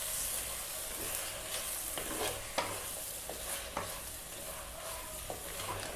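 Banana curry (vazhaikai kulambu) cooking in a pan, giving a steady soft sizzle and bubbling with occasional clicks of stirring, close and continuous, without any talking.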